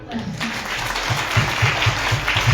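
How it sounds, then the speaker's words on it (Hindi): A church congregation at a Christmas meeting claps for itself, a dense wash of applause with a steady rhythmic beat of clapping underneath, loud and continuous, with a voice briefly heard over it. "खुद के लिए ताली बजा दो"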